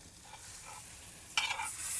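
Faint sizzling of osso buco browning in a hot pan, quiet and steady, with a brief louder scrape or stir near the end and no voices.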